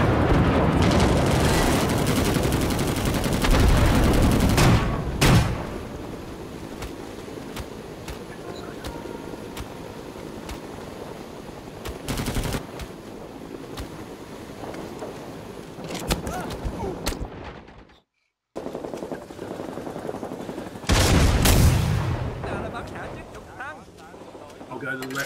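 Gunfire and machine-gun bursts in the video game Rising Storm 2, loud dense volleys at the start and again near the end, with quieter distant shooting in between and a brief silent dropout.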